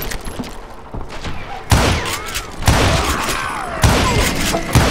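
Gunfire from Call of Juarez rings out in loud, booming bursts, several heavy shots roughly a second apart with crackling echoes between them.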